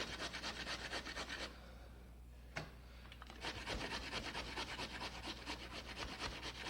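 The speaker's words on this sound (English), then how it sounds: "you take the coarse part of your grater and just grate it down" Raw potatoes rubbed down the coarse side of a grater, a steady rhythmic rasping scrape of repeated strokes with a brief pause partway through, faint and close.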